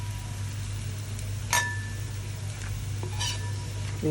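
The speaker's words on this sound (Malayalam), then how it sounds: "ഈ ഉള്ളി ഇങ്ങനെ മൂത്ത് വരുന്നുണ്ടല്ലോ" Onions fry and brown in a pan with a soft, steady sizzle, broken by a few sharp clinks and scrapes of a stirring spoon against the pan.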